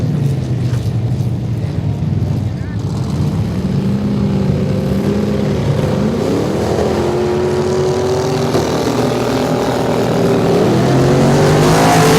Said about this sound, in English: Lots of cars spinning around, visibility's low.